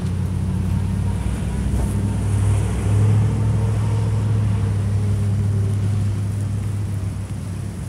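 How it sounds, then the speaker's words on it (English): A Dodge Bushmaster monster truck engine idles loud and close, holding a deep, steady rumble that swells slightly partway through before settling back to an even drone. "It's a Dodge Monster truck."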